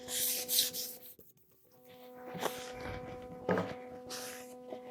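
Hand sanding of an epoxy and wood coaster with 1000 grit sandpaper, soft close scratchy rubbing strokes in irregular bursts with short pauses between them.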